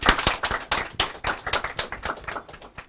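A studio audience on a Nigerian radio call-in programme claps, a close, loose burst of individual hand claps with uneven rhythm that tapers slightly over a few seconds, no talking.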